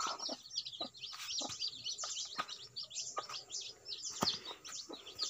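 Steady high-pitched peeping from chicks with occasional low clucks from a hen, busy and continuous, fairly close.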